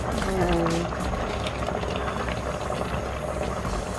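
A pot of coconut milk broth bubbles steadily at a rolling boil, a continuous wet churning close by, with a faint tonal whine early on.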